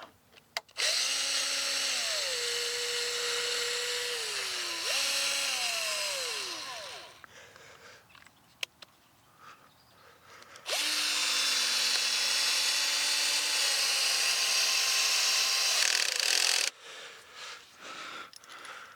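A power drill drives screws into the wood of a garden raised bed, two long whirring runs with falling pitch as each screw binds, separated by quieter clicks and handling noises, close and loud.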